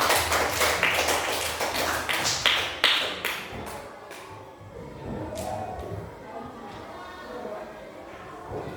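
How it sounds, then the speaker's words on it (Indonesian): Children in a classroom clap their hands together in a quick, loud burst of rapid claps that thins into a few scattered claps before fading into murmuring room noise. "Coba tepuk tangan dulu untuk tepuk tangan dulu semua nih"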